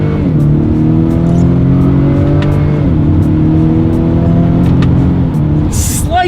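A 2020 Acura RDX engine revs and climbs through gears under paddle-shift control, steady loud drone with rising and falling pitch sweeps as shifts land, continuous throughout.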